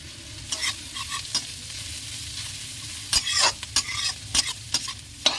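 Long-sliced capsicum stir-frying in a pan for egg chowmein, a low background sizzle broken by bursts of scraping and tossing strokes that cluster toward the end, close and without talk.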